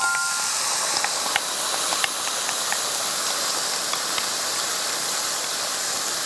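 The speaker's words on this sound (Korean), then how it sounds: "그래서 이제 소스가 빠글빠글 끓죠" A sauce poured over stir-fried onions and green peppers bubbles hard in a pan, making a steady loud hiss broken by small scattered pops.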